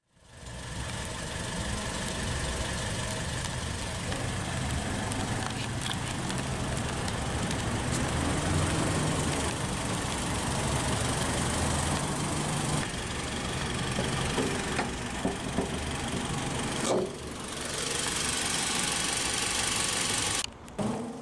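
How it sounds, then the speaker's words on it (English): A 2015 Mitsubishi Outlander Sport ES with the 5-speed and its 2-liter DOHC 16-valve inline-4 idles steadily up close, a continuous rumbling hum that holds for about twenty seconds with brief dips near the end. "Powering this ES is the Outlander Sport's base engine for 2015, that being this 2-liter dual overhead cam 16-valve inline-4."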